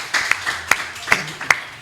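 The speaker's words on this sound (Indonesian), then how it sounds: "Tepuk tangan buat kita semua." A small group claps hands in a podcast studio, a sparse, uneven burst of a handful of sharp, close claps over about two seconds.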